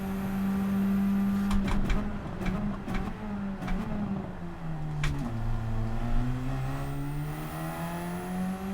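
Race car engine in the Gran Turismo 7 video game during a Radical time trial, revving loud and steady while climbing through the gears with quick shift breaks, the pitch dipping and then rising again.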